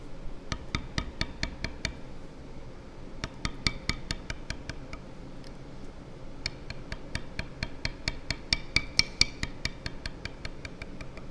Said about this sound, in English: Every time I hit that tool down, that way we can keep a nice smooth bevel line in there.